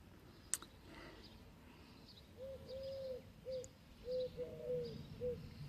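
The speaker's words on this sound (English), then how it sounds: "Oh, I'm listening to that bird." Bird calling in a garden, a soft owl-like cooing repeated in a loose series of short hoots, moderately near, over quiet outdoor background.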